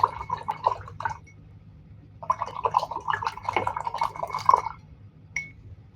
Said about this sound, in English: I'm going to wash my brush